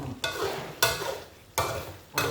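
Pork pieces cooking down in a pot for Thai pork rinds (khaep mu) as the water boils off, with four sharp bursts of loud sizzling and stirring that each fade into a softer bubbling hiss.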